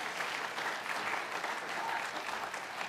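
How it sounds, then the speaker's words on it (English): Steady, dense applause from a school audience at a student 3D movie presentation in Hong Kong, continuous clapping at an even loudness throughout with no voices standing out. "Give a round of applause, guys."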